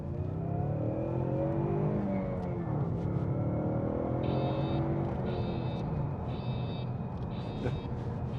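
A car engine runs and revs steadily as the car drives off, with rising and falling engine tones throughout. Several short electronic alert beeps sound over the engine near the end.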